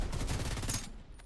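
A big gun fires in the video game The Division 2, a dense, rapid run of heavy shots rattling close and loud before trailing off into fading echo.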